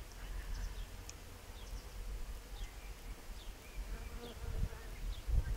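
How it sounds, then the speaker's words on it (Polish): A swarm of bees buzzes around flowering plants outdoors, a steady low hum with faint individual passes drifting near and away, plus soft wind rumble. "Roje pszczół."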